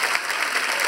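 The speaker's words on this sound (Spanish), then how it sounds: "Y ahí el público aplaude." An audience at a comedy stage show applauds, a continuous, fairly loud, dense clapping that stays even throughout the brief moment, with no speech over it.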